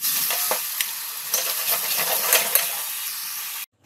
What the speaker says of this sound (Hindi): अभी इसे अच्छे से मिक्स कर लेंगे।